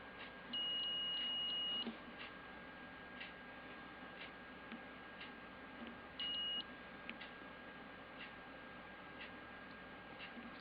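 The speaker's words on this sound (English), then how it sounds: "Negative to negative, and I should get a beep." A multimeter beeps during a continuity test on a quad build's power train wiring: two faint steady high tones, one about a second long and a shorter one later, over low background noise.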